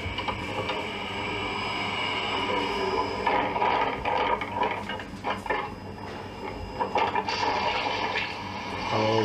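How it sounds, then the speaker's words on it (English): Water rushing rapidly into a car interior as the vehicle floods, a loud continuous gushing and churning with surges and splashes, heard from inside the car with no talking. "it's just to show you how quickly this car could fill up"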